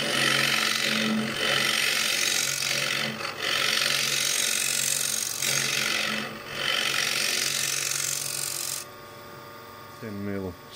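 Spindle gouge cutting a spinning wooden bowl foot on a lathe, a steady close scraping rasp with rhythmic dips as the tool is repositioned, the motor hum continuing after the cut stops near the end.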